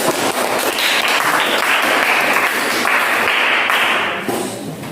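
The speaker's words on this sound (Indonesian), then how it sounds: "Tepuk tangan untuk kelompok 1." A classroom of seventh-grade science students applauds a student group after its presentation, a dense, steady patter of many hands clapping for about four seconds before tapering off.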